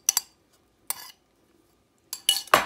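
Ricotta cheese and eggs are stirred together in a bowl. Short bursts of spoon scraping and clinking come in separate spurts with quiet gaps, growing busier at the end.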